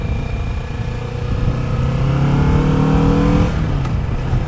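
Engine of a 2022 Kawasaki Vulcan S motorcycle on a test ride, loud and close, revving up through a gear with rising tone, then dropping off as the rider shifts.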